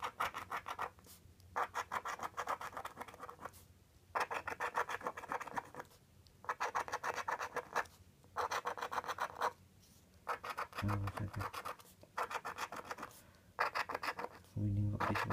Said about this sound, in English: Let's start scratching.